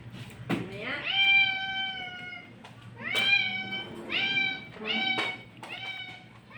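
A cat meows repeatedly and close by, giving about five drawn-out, wavering meows spaced a second or so apart against a quiet background.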